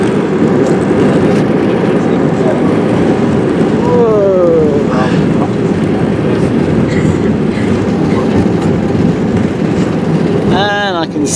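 An Easyjet Airbus A320 touching down at London Gatwick, heard from inside the cabin as a loud continuous rumble and roar with rattling, and voices talking over it.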